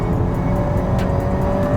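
A 2001 Acura Integra Type R engine revs hard at high rpm around its VTEC changeover near 5,700 rpm. It gives a loud, close, steady engine drone heard from inside the car, with no voices.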